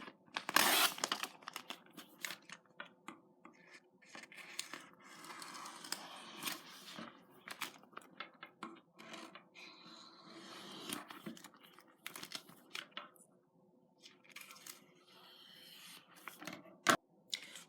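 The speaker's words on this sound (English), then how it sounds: "I recommend taking a pair of scissors and cutting off extra so that way it will fit nicely in the frame." Scissors snip off extra transfer tape from a vinyl sign, with a series of close, crisp cuts and crinkling plastic rustles spaced irregularly in a quiet room.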